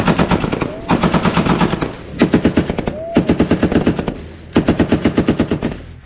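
Bursts of machine gun fire ring out during a weapons pre-fire check aboard a naval destroyer, loud and close, coming in several rapid-fire strings separated by brief pauses.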